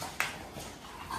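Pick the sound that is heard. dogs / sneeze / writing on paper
dogs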